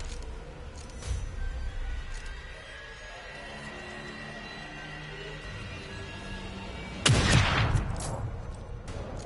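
Gunfire in The Evil Within 2, with a couple of sharp shots early and a loud heavy blast near the end, close and punchy over tense game ambience.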